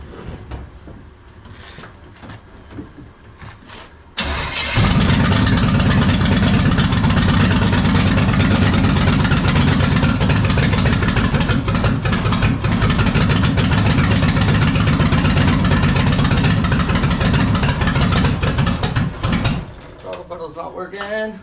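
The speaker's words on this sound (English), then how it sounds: "So I'm gonna see if this thing will fire up and rev up from inside the truck." NASCAR V8 engine fitted in a bagged 1972 Mazda truck starts after some quiet handling noise and roars loudly and steadily for about fifteen seconds before cutting off abruptly, with voices faint around it.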